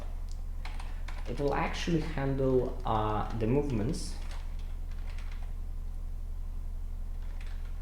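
Typing on a computer keyboard during Java coding for a Minecraft plane mod, a quick run of soft close key taps under a man's speech, over a steady low electrical hum.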